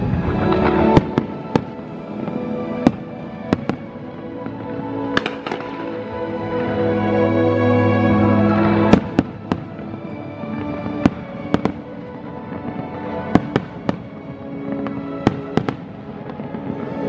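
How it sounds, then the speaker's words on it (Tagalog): Fireworks burst repeatedly outdoors at the Fo Guang Shan New Year Festival in Kaohsiung, Taiwan, sharp booms and crackles scattered at irregular intervals, with a rumbling swell of explosions in the middle. "maa-amaze ka talaga sa magagandang fireworks na dinidisplay nila"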